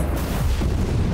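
A short, dense explosive blast fills the whole moment in the Mini Ninjas video game, a loud rumbling boom that holds steady and then flares up at the very end.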